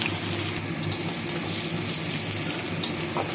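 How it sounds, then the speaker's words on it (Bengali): Chopped onion hitting hot mustard oil in a kadai, giving a steady close sizzle with light stirring and a few utensil clinks, no voices. "কড়াতে সর্ষের তেল গরম করেছি। তেলে দিয়ে দিচ্ছি পেঁয়াজ কুচি।"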